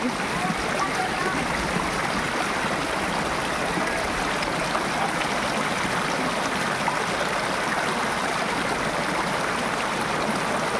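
Cold mountain stream water flows continuously in a steady, close rushing babble at a mountain picnic spot, with no pauses.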